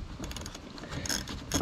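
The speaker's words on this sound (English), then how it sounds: "Okay, I'm going to take these" Screws being backed out of a Westerbeke 46 fresh water pump on a boat engine, a close, quiet run of small metallic ratcheting clicks and scrapes with no talk.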